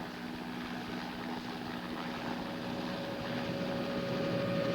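A helicopter flies over the Hawaiian mountains, a steady droning engine and rotor hum holding at a constant level and swelling slightly louder toward the end, with no voices.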